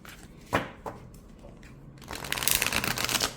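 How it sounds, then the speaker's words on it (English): A deck of witch-themed tarot cards being shuffled by hand: two short riffles, then a longer, louder stretch of crisp, rapid card flutter close to the listener, with no voices. "So let's see how this deck shuffles."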